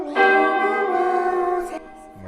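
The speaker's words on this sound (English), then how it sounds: "Church bells." Church bells ring out in a sustained, resonant peal with layered tones, fairly loud and close, holding for over a second before cutting off abruptly.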